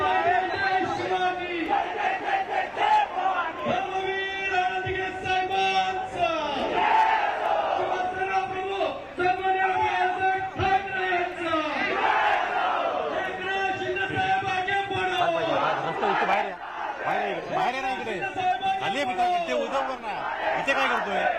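A dense crowd of Shiv Sainiks chants rhythmic slogans outside Shinde's residence in Thane, many voices shouting in unison in loud repeated bursts that hold steady throughout, close and unbroken.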